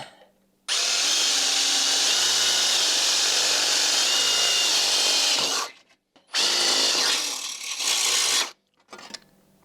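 A power drill whirs loudly and steadily for several seconds, stops, then bites in again for a second burst before falling silent, drilling through tough material while installing a hidden winch on a second-generation Toyota Tacoma.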